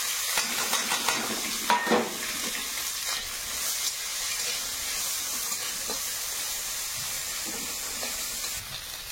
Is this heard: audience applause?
no